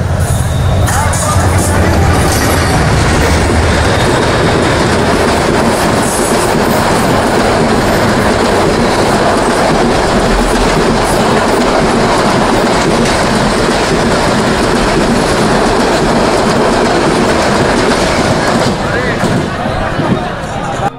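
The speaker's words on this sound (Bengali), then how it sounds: "দেখতে দেখতেই ট্রেনের আগমন হয়ে গেল" A train roars past close by at a crowded Eid livestock market beside the railway at Nasratpur, Adamdighi, Bogura. A loud, continuous rumble and wheel clatter fills the whole stretch, with crowd voices blurred into the din.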